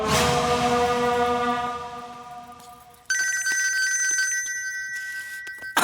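A telephone rings loudly with a sustained bell tone that fades, then a brighter electronic ring tone starts abruptly and continues.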